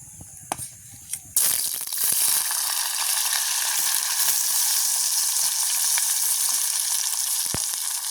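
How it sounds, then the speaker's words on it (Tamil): Potatoes dropped into hot oil for deep-frying in a village outdoor kitchen: after a few soft clinks, a loud sizzle bursts in and settles into a steady, bubbling hiss with occasional pops. "நாங்கள் முதல்ல உருளைக்கிழங்கு பொரிச்சு எடுப்போம்."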